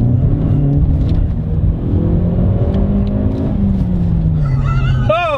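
A 2018 Hyundai i30 N hot hatch engine roars steadily under hard acceleration, loud and close, with a gruff droning note throughout.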